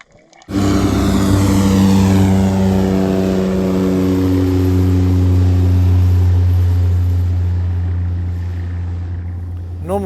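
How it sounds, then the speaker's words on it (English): A float plane takes off past an anchored sailboat in the Bahamas, its engine a loud, steady droning roar that stays close and strong throughout, then slowly eases as it climbs away. "we also had a float plane takeoff going past Zape as she lifted into the sky"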